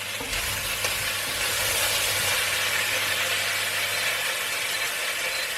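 Potatoes sizzling in a pan with salt and about a dozen peppercorns, a steady loud hissing fry with faint crackles and a low hum underneath, continuous throughout without speech.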